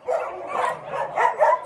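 Several dogs at a mountain home bark and yip in quick overlapping bursts, close and fairly loud, with no talking.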